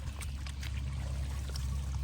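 A small flow of water runs into a fishing pond with a steady, close splashing trickle that holds constant throughout, with no talking.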